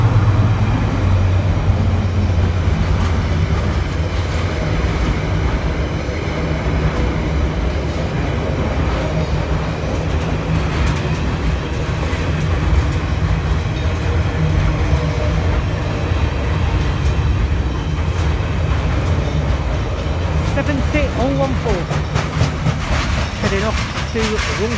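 A train rumbles steadily through Salford Central station with a low continuous roar and faint rattling, while a person talks over it throughout.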